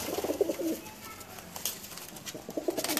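A Rampuri pigeon coos nearby in two soft, throaty bursts of rolling calls, separated by a short pause, with low background noise.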